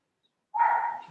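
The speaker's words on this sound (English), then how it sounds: "If you hear my dogs barking in the background" A dog barks once nearby, a single sustained bark or yelp in an otherwise quiet indoor setting, with no talking over it.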